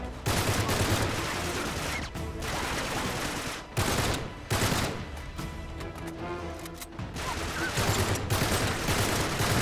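Burst-fire gun shooting in Uncharted 3 on PS4, with loud dense volleys of rapid shots repeating through the scene, broken by brief pauses and mixed with game noise and some talk.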